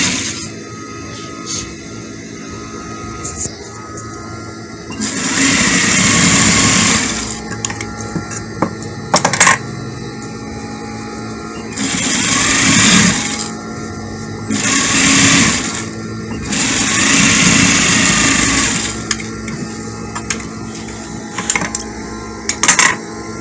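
Sewing machine stitching the side seam of a peplum dress, heard in several loud, fast whirring runs of a few seconds each, separated by pauses with clicks, fabric handling and brief handling knocks.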